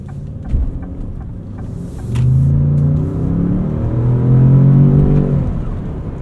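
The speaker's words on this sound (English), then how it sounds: "Engine sounds good though." Engine of a 2025 Lincoln Navigator heard from the cabin while driving, a low rumble that swells as the SUV accelerates, rising in pitch over several seconds, loud and close with no talk.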